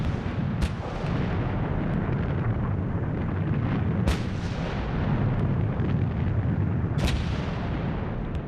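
Heavy artillery shelling on the Somme booms continuously as a dense, rumbling barrage, with a few sharper, louder blasts standing out at intervals over the constant roar of distant guns.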